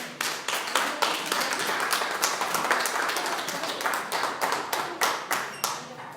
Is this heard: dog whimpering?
no